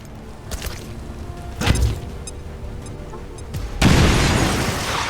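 A grenade explodes in the XCOM video game, a sudden loud broadband blast that rings out for over a second, following earlier thumps and clatter of in-game action.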